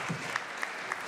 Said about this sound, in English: please give our hosts and MCs, Rishi and Raj, a round of applause.